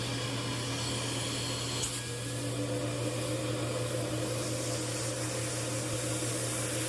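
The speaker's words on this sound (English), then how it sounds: "I'm just using the 3-inch detail tool to make sure I have a lot of vacuum power" A steady, droning vacuum with a 3-inch detail tool draws water out of a mattress during steam cleaning, a constant hum with airy suction noise, close and unbroken throughout.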